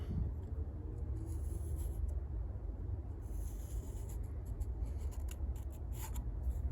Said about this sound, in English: Trace the shape.